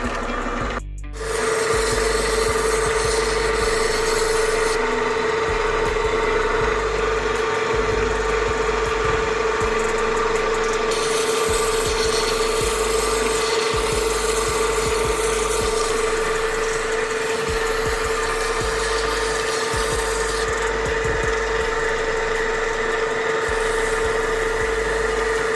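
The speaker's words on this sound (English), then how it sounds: "Moving a little faster on the 600 grit wheel because I don't want to scratch it too deep" A gemstone being ground on a 600 grit wheel, with a constant machine hum and steady scraping grind that runs without a break for the whole stretch.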